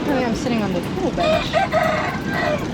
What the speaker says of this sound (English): There's a rooster crowing in the back